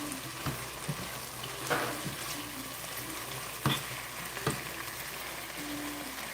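Shrimp for Cajun shrimp and grits cooking on a stovetop, a steady sizzle and hiss of frying with occasional soft taps and clinks of a utensil, close and continuous, with no voices.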